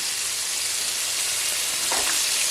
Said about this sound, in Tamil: எண்ணெயும் சேர்த்து நல்லா எண்ணெயிலே வதக்கிக்கலாம்